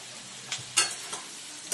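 Ingredients for chilli chicken fry gently in a pan, with a faint sizzle under a few short, sharp scraping strokes of a spatula stirring.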